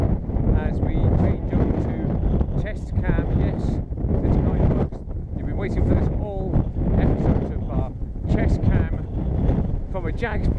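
Strong wind buffets the microphone throughout, a steady roaring rumble with gusty surges, while voices talk over it.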